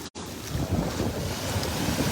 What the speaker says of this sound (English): just hearing that ocean is just so incredibly calming